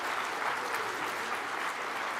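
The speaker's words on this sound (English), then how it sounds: "Give them a round of applause." A commencement audience at Olin College of Engineering applauds three classmates, a steady, dense wash of clapping from a large crowd with no break.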